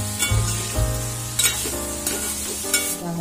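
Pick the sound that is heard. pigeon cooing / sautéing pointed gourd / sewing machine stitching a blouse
sautéing pointed gourd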